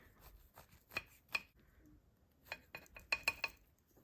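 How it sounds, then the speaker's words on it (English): A knife slices through a brownie cake on a plate, quiet clinks and scrapes of metal on dish in a sparse series of taps, faint and close with no talking. "I'm gonna slice through it now. Okay, slicing through."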